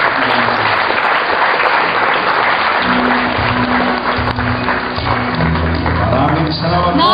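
An audience at a national youth congress in Davao applauds a senator, steady loud clapping from a large crowd. Voices join in partway through and continue over the applause.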